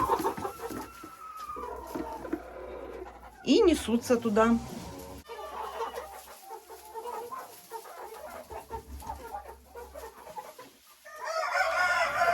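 Hens clucking around a nest box in a backyard coop, with a rooster crowing partway through; the clucks come in short bursts close by, mixed under someone talking.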